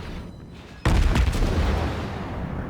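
Naval gun volleys from warships in a World of Warships sea battle erupt as a sudden loud boom, followed by rumbling, crackling reports that linger and slowly fade.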